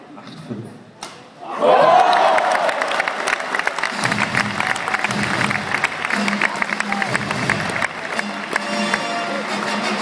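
At a badminton show match at the German Open, an arena audience claps rhythmically in a steady, even beat after a brief burst of cheering, with a voice talking over it.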